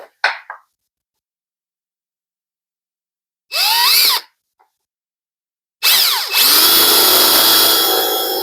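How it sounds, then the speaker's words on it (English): A power drill whirs in two bursts while drilling out a plug in an NV4500 transmission top cover, a short spin then a longer sustained grinding run, loud and close, with a brief clack at the start. "drill a hole in the plug and just work it out"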